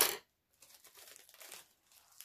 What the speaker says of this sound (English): I'll just use scissors to open them up.